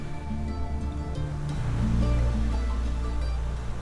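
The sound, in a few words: ocean waves and wind on Pacific coast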